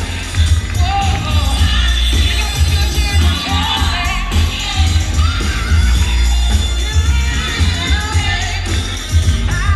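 Wedding guests at a Cleveland reception applaud and cheer the bridal party in a dense, continuous wash of clapping and crowd noise with scattered whoops, heavy low rumble underneath.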